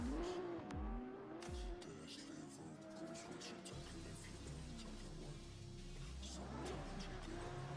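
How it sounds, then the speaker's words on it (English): A drift car runs down the straight during practice at a drifting competition, engine droning steadily with tire noise, and a commentator talks over it throughout. "We do have the Kawa car there, going down the straight for his practice as well."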